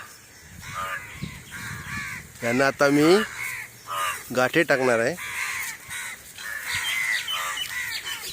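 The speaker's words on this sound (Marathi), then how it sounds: "बघा कावळे सगळे बसलेले आहेत." A gathering of crows perched on a farm caws loudly while waiting for food, giving several harsh repeated calls in two clusters, close by, as someone talks over them.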